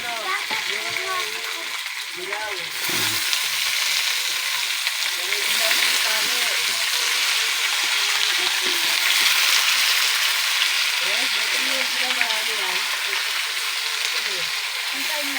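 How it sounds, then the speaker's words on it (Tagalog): Bitter gourd simmering in coconut milk in a pan, giving a continuous bright sizzle and bubbling hiss close by, while someone talks over it throughout. "Sabay titirahin ko ngayon siya ng gata"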